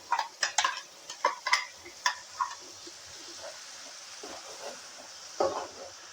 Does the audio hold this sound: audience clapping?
no